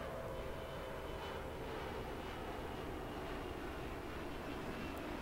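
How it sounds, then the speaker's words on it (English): The Shuttle Carrier Aircraft, a jumbo jet carrying Space Shuttle Endeavour, flies over through low cloud, with a steady broad engine roar that holds loud and constant throughout. "Breaking through a low cloud layer, here comes shuttle carrier aircraft."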